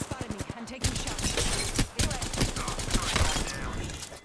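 Rapid bursts of gunfire from an Apex Legends firefight, dense overlapping shots and impacts running loud and continuous with brief gaps, up close amid game effects.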